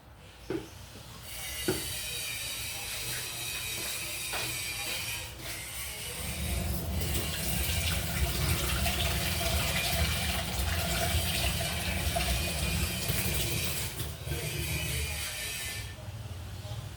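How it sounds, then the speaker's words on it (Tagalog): Tap water running into a bowl in a home kitchen, a steady hissing gush that grows fuller partway through as the level rises, then carries on evenly to the end. "Naglagay tayo ng tubig na may asin para pag iwa natin ng hindi siya mangingitim."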